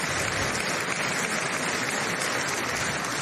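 A large chamber audience at the State of the Union applauds. The clapping is dense, even and fairly loud and lasts a few seconds without a break.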